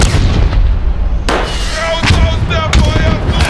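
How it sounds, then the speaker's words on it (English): In a trench warfare video game, an artillery barrage roars with heavy, loud booms and rumbling blasts, with sharp impacts at intervals over a constant low thunder. Voices can be heard talking over it. "the Germans are walking into their own fucking barrage"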